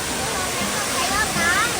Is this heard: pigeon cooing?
no